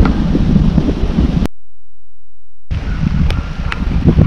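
Steady roaring wind buffets the microphone on an open plain during a rainy driven hunt, loud and continuous, cutting out briefly to silence before resuming.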